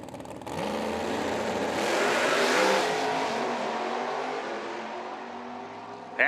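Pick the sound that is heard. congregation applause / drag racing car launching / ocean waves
drag racing car launching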